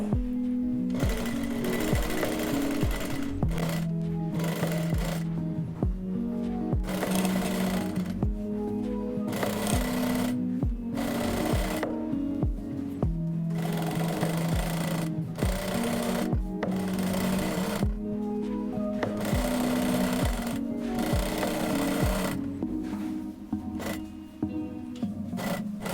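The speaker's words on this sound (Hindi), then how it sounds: "अब मुझे एक बूट की सिलाई इस तरफ और एक बूट की इस तरफ लगानी है।" Sewing machine stitching the side button placket of a kurti, a loud continuous mechanical whir with rapid needle rhythm running steadily throughout, briefly easing near the end.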